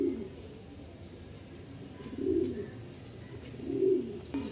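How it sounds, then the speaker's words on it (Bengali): A pair of pigeons at a pigeon seller's in Mirpur, Dhaka, coo softly nearby, with two low throaty coo bursts rising over quiet background noise and no talk. "এখানে এক জোড়া কবুতর দেখতে পাচ্ছেন মাশাল্লাহ।"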